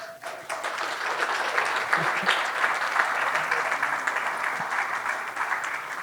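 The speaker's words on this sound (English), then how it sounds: "So I just wanted to give you guys a round of applause if we could." Wedding guests at a reception giving a round of applause: dense, even clapping from a crowd, sustained and fairly loud throughout, with a few faint voices mixed in.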